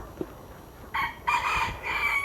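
A chicken calls out in three loud, drawn-out bursts close by, rising and falling like crowing clucks, with quiet background between them.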